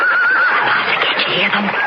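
Horses whinny in a radio drama, a long high neigh carrying over a steady outdoor bed by a stream, with a voice speaking over it.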